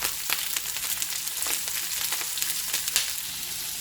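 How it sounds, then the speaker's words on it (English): Ingredients toast in a hot Instant Pot or Ninja Foodi, a steady close sizzle and crackle of frying with small pops and occasional stirring scrapes, no voices. "I'm just going to let those toast there for a few minutes"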